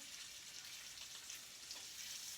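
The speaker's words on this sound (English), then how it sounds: "searing a beautiful little crust on top, on bottom, rather" Scallops sear in a hot pan, a soft steady sizzle and crackle of frying, faint and close with no talk.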